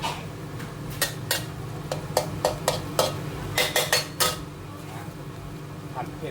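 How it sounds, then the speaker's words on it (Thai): Stingray pieces are stir-fried with curry paste in a pan. A spatula strikes and scrapes the pan in a quick, uneven run of metallic clinks that thin out toward the end. The sound is close and loud, with no talking. "ปลากระเบน ผัดไว้ครับให้มันสุกครับ"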